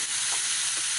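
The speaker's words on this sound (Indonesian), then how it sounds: "Daging dia ni aku dah goreng" Meat sizzles in a frying pan while cooking mentai rice: a steady, loud, close hiss of frying with faint stirring scrapes and no talk.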